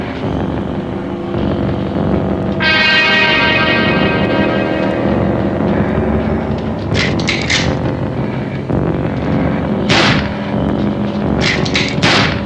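Gunfire in the horror film Night of the Living Dead: a few sharp, loud shots in short clusters cutting through a steady rumbling, droning background.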